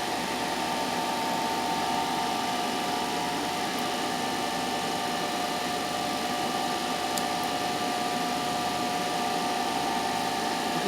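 An electric motor drives an alternator in a lab test setup while its speed is trimmed toward 1500 rpm with a field rheostat, giving a steady, continuous whine and hum with no pauses.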